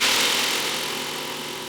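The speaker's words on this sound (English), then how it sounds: "roasted peanuts, unsalted, in the food processor" A food processor motor whirs loudly and steadily as it grinds unsalted roasted peanuts, a dense continuous drone that eases slightly toward the end.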